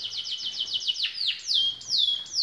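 Timbrado canaries being selected for singing contests pour out a rapid run of repeated bright chirps, then slower sweeping whistled notes, close and clear over a faint low hum.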